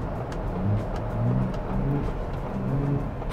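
A 2024 Ford Bronco Raptor's active exhaust in Baja mode gives a steady, loud, deep engine drone with low rumbling pulses, heard from inside while driving.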